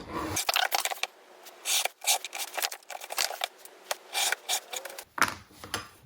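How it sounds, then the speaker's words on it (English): An X-Acto knife with a hook blade drags repeatedly through veg tan leather, giving a run of short, uneven scraping and rasping strokes close up, with brief pauses between passes. "for this veg tan, it takes a few passes to cut through this"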